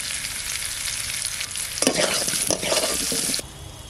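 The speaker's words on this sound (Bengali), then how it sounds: "আলুটা খুব সুন্দর করে ভেজে নিচ্ছি" Potato pieces frying in hot oil with turmeric and salt, a dense bright sizzle that swells briefly with stirring before settling back, close and fairly loud, no voices.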